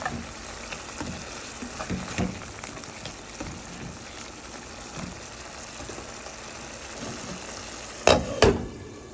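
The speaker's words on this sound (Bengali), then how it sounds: "মাছটা ভালোভাবে কষে নিতে হবে" Fish sizzles steadily in a pan while it is stirred and turned, and two louder scraping knocks come near the end.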